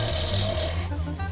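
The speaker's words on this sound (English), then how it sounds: "And he had this snore." A man snores loudly and continuously, a low rumbling throaty drone with a rattling, pig-like snort, close and alone for the whole moment.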